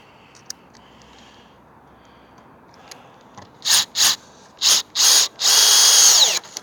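Power drill driving screws while solar panels are fitted to a van, several short whirring bursts followed by one longer run, loud and close after a quiet start.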